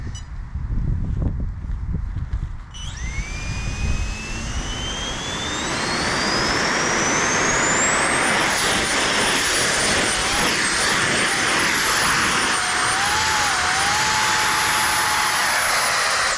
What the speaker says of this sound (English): So it looks like we over revved the motor and it pretty much toasted.